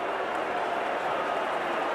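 At the 2008 Australia versus New Zealand rugby league Centenary Test, a huge stadium crowd claps for a pitch streaker. The sound is a steady, distant wash of massed applause with no breaks.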